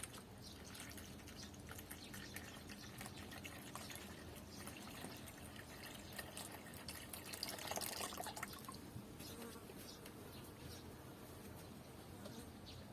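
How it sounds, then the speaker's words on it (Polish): Water is poured steadily into a container while a garlic and soap spray for aphids is mixed, a continuous soft splashing and trickling that runs the whole time with no talking. "Teraz uzupełniam wodą."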